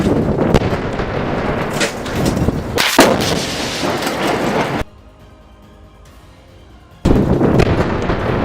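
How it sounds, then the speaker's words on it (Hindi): Rocket launcher fired by fighters at a building held by soldiers in a Gaza urban war zone: loud, dense blasts and rumbling fire, a sharp crack near three seconds, then a quieter gap before the heavy roar resumes. "2 लड़ाके रॉकेट लॉन्चर ले जाकर सामने की एक बिल्डिंग में तैनात आईडीएफ के सैनिकों पर रॉकेट फायर कर देते हैं"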